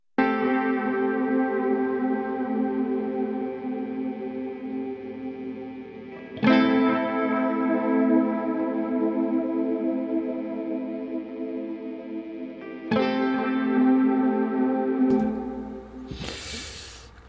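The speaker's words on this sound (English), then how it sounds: "we're gonna start to add the reverb little by little." Sustained guitar chords drenched in plate reverb in a Logic Pro X mix, three long ringing strums with lush, wide tails blending into each other, ending in a short noisy swell.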